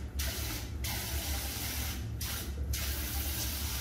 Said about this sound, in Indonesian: Oke, setelah itu kita buka di sini airnya.